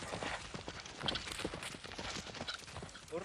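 Horse hooves clip-clopping steadily on a hard surface nearby, with faint background noise and no clear talk.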